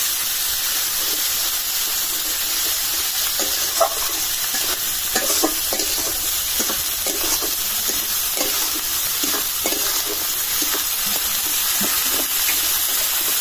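Dried chili paste made with ginger, garlic and coriander-cumin sizzles and hisses steadily in a hot pan, with repeated scraping stirs of a spatula through it, close and continuous with no talk.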